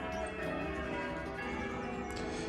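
Bells ring outdoors near Hillsborough Forest, a dense, sustained wash of overlapping tones at a moderate distance, continuing steadily throughout without speech.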